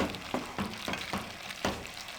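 Chicken for shami kabab being stirred into boiling liquid in a pot, with a handful of rhythmic stirring and scraping strokes over a steady bubbling simmer, close and moderately loud.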